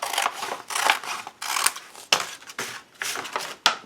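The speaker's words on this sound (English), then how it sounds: "I am going to just cut that out roughly." Scissors cutting through a brown paper bag, a series of crisp snipping and crunching paper strokes in an uneven rhythm, close and fairly loud with short pauses between cuts.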